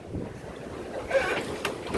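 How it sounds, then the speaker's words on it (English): Strong wind blows outdoors on a farm where birds are kept, making a continuous low roar and buffeting across the microphone with gusty swells and no talking. "Like I said, it's real windy."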